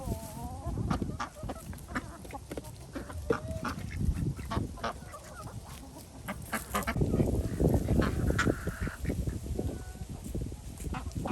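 Poultry calling over one another, with loud honking and squawking cries scattered throughout, close by and continuous for several seconds.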